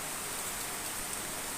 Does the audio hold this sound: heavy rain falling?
yes